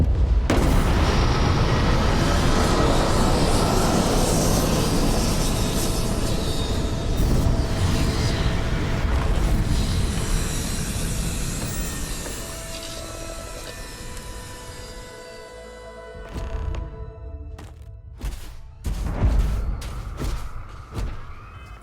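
Spaceship touching down in Starfield: a long, loud roaring rumble of engines that fades over about fifteen seconds, followed by a series of heavy mechanical thuds and clanks as the craft settles.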